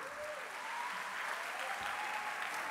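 A concert audience applauds a school band at a band championship, giving a steady, even wash of clapping that carries on throughout at moderate distance with no pauses.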